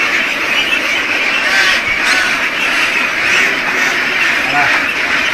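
One-month-old ducks quack continuously on a duck farm, a dense, steady flock chatter at close range with a voice speaking over it.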